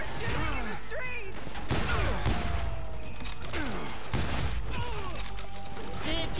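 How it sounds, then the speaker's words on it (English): Gunfire in the street in Call of Juarez Gunslinger: a busy western shootout of repeated shots, ricochet whines and clanking mechanical noises, with voices shouting over the din. "They're shooting in the street!"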